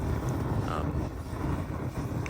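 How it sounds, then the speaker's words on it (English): Gases forced out of a charcoal-making can catch fire as they escape, producing a loud, steady jet-like roar with a rough, broadband rushing texture that fills the whole moment without speech. "It kind of sounds a little bit like a jet engine because it's also igniting at the same time."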